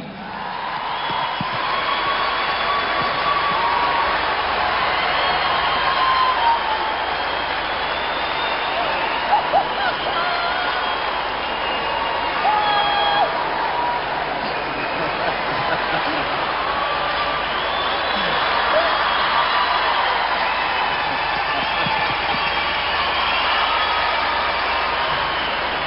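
A live television studio audience applauds as a fan is called onto the stage at a concert segment, a steady dense wash of clapping and crowd noise lasting throughout, with a brief exclamation and voices mixed in.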